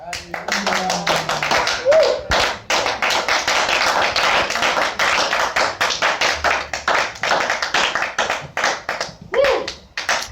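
Rapid, rhythmic hand clapping from a church congregation praising the Lord, a fast run of loud close claps with brief pauses, and voices calling out over it.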